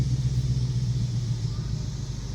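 A 2019 Ford Mustang GT's Coyote V8 with an X-pipe exhaust rumbles steadily and close during city driving with the windows down, a deep continuous drone with no talk.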